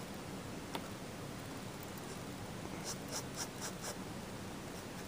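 A Noodler's Nib Creeper flex pen scratches over paper while drawing, faint soft strokes and small ticks sitting low beneath a steady hiss of background noise.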